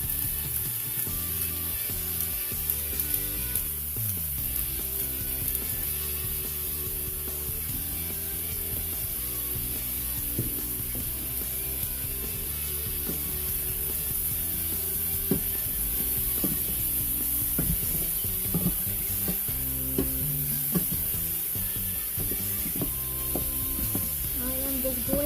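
Chicken pieces seasoned with garlic salt and black pepper brown in a pan, giving a constant soft sizzle with faint crackles over a quiet tonal background.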